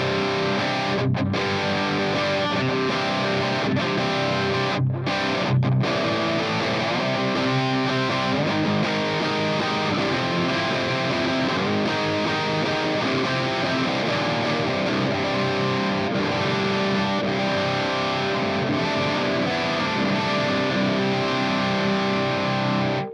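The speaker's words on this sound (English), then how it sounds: "let's see what the DS1 distortion sounds like in the effects loop" Electric guitar runs through a DS1 distortion pedal placed in the effects loop of a Digitech DF-7 Distortion Factory, a dense, loud, continuously saturated riff with sustained chords and only brief gaps, no voices.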